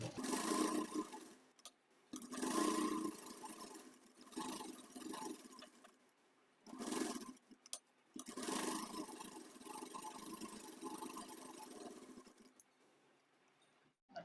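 A sewing machine stitches a fabric lining in bursts of steady whirring, running for a few seconds at a time with short pauses between, close and fairly quiet, with a longer continuous run toward the end.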